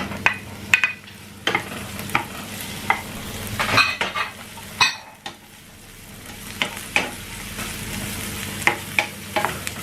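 Onions fry in oil in a pan after garlic, with a constant crackling sizzle and repeated close scrapes and clicks as a utensil stirs them.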